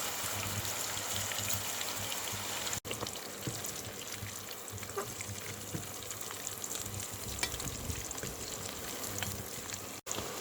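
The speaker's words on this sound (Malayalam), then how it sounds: "ഞാൻ ഈ മീൻ നമുക്കൊന്ന് വറുത്ത് കോരണം" Fish pieces for fish pickle fry in hot oil with a steady, dense crackling sizzle. The sound holds evenly throughout and breaks off twice in brief dropouts. No voices.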